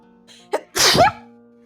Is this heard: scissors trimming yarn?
no